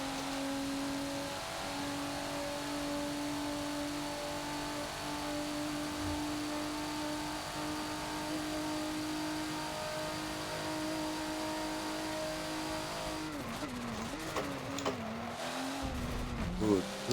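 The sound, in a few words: racing car engine in Forza video game, Bathurst track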